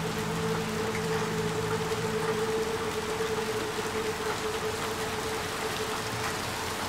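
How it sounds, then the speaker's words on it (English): Heavy rain in the Little Nightmares 2 video game, a steady dense hiss of downpour that stays loud and even throughout, with a faint low hum underneath. "Man, it's raining pretty heavily."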